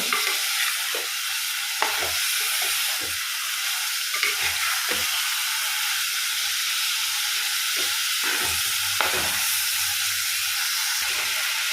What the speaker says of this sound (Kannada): ಸ್ವಲ್ಪ ಎಣ್ಣೆ ಜೊತೆ ಮಿಕ್ಸ್ ಆದರೆ ಸಾಕು ನೋಡಿ ಎರಡು ಸೈಡ್ ಕೂಡ ಫ್ರೈ ಆಯಿತು